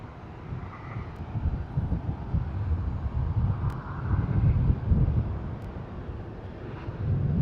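An airliner takes off from runway 34 right at Sydney Airport, a broad distant engine roar swelling and fading under gusty wind noise, with a few faint clicks.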